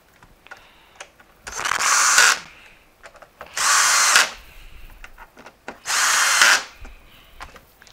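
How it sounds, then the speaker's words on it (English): A power drill whirs in three short bursts a couple of seconds apart, driving screws into a Miele U1 S7 upright vacuum, close by, with faint clicks and handling noise between them. "You can do these with a drill."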